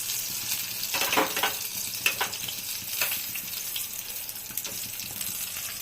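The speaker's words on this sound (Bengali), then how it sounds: "এখন একটু ভেজে নেব এই পিঠটা, ভেজে তারপরে বেগুনগুলোকে উঠিয়ে নেব" Eggplant pieces fry in a pan of hot oil, a steady close sizzle with a few sharper crackles and spatters, no talking over it.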